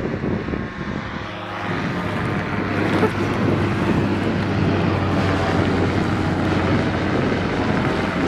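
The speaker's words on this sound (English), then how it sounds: "it's a friggin' flying boat." A propeller-driven flying boat roars past overhead, its engine drone swelling and holding loud against gusty wind buffeting the microphone, with no talk during the pass.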